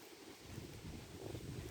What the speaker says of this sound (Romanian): Deja a început să bată vântul.